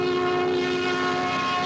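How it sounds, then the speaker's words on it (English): A CN work train setting out along the Newfoundland railway sounds its horn in a loud, sustained multi-tone blast, with engine rumble beneath it. "A work train setting out for stopovers along the line to central Newfoundland"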